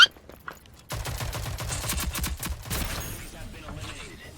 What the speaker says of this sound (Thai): โดนสไนยิงว่ะ